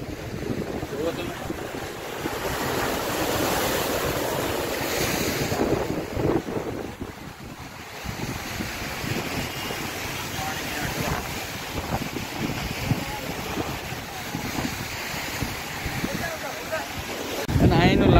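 Sea waves at the shore in Mumbai, a continuous loud wash of surf blended with strong wind buffeting the microphone, with someone talking intermittently over it.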